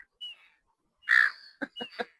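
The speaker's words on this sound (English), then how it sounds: "I just need to show you these silly seagulls over here and their friendship groups" Several harsh gull-like calls outdoors: a faint cry, then one loud drawn-out squawk followed by a quick run of three or four shorter calls, with no talking over them.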